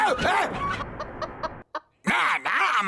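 Cartoon chickens cluck in a short run of rhythmic, bright bursts between stretches of loud animated voices, with a brief pause before the talking resumes.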